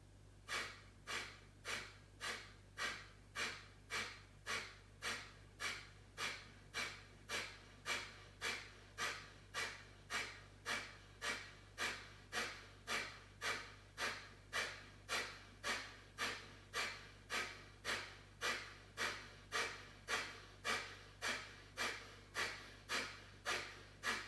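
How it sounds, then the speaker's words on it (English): Breath of fire yoga breathing: rapid, rhythmic forceful exhalations through the nose, repeating evenly about twice per second for the whole stretch, close and clear over a low steady hum. "begin breath of fire"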